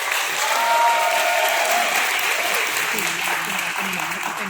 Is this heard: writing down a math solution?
no